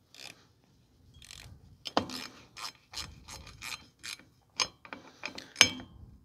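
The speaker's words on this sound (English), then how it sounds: "Then tighten up the mounting bolt." A ratchet tightening a mounting bolt, giving a series of close, crisp clicks and short rasping pulls in an uneven rhythm, with a sharper click near the end.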